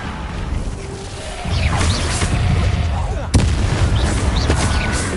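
Explosive bursts from the Confringo blasting curse in Hogwarts Legacy crack and boom amid rumbling game effects, with a sharp loud hit midway and a continuous low roar around it.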